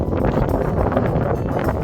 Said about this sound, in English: Still windy.